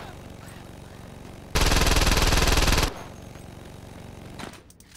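Gunfire in the video game Saints Row 2: a dense, loud burst of rapid automatic shots lasting about a second and a half, set against a steady background din that carries on before and after.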